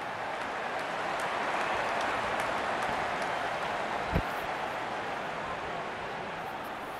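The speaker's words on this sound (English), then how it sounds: "Such a wonderful crowd in to watch their favorite players." Dense crowd noise fills a cricket stadium during a World Cup 2023 match between India and Sri Lanka, a steady roar of applause and cheering throughout, with one sharp crack partway through.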